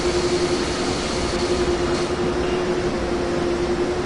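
A steady electric train hum from a double-deck IC train in Train Sim World 2 on the Cologne high-speed line, with a constant high whine and rumbling rail noise, continuous and fairly loud, no talking.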